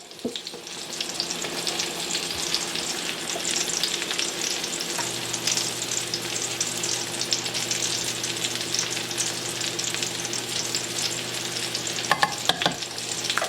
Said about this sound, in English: Just going to give that a mix